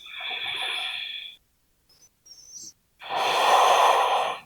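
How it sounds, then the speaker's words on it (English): Two deep breaths during a yoga session, a long drawn inhale or exhale followed by a pause with faint small sounds, then another full, close breath. "Big breath."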